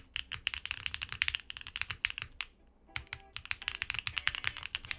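Typing on a Neo 80 TKL mechanical keyboard in an all-foam build, deep and poppy keystrokes in rapid, steady bursts with a brief pause midway, close and clear with no voices.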